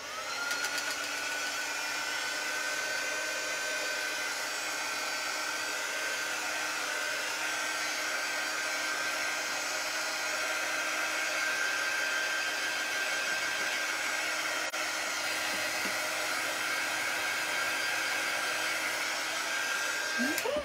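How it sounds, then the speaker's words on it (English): A hair dryer blows continuously at close range, a steady high whine and airy rush with no pauses. "I'm going to get my little dryer."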